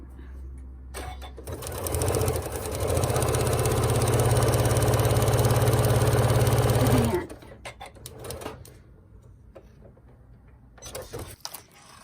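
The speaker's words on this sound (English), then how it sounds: "you carefully open it up and you start sewing" A sewing machine stitches a paper-pieced triangle quilt block in one steady, fast, close run of about five seconds, then stops. Quieter handling sounds follow.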